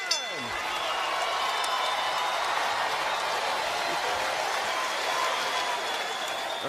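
Boxing arena crowd cheering and applauding for Bernard Hopkins, a steady, dense roar of clapping and voices that holds at a constant level throughout.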